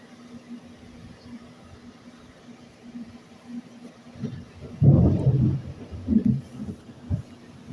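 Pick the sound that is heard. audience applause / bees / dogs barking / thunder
thunder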